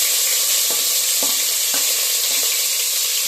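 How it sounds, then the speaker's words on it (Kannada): Chopped onions frying in hot oil inside a pressure cooker, with a steady loud sizzle throughout and a few soft stirring knocks. "ಈಗ ಈರುಳ್ಳಿ ಹಾಕ್ತಾ ಇದ್ದೀನಿ"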